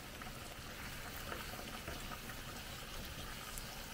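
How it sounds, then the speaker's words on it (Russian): Chopped vegetables stewing in a pot for borscht, a constant soft bubbling hiss with faint liquid simmering throughout, no voices. "Ну вот у нас уже овощи так притушиваются"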